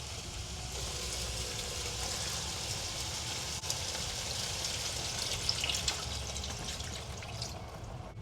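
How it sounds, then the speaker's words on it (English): Water is poured into a simmering pot of Filipino pork adobo, producing a soft, steady wash of liquid and faint sizzling with a few small clinks, quiet and close, with no talking. "Now let's open it back up and add in our water."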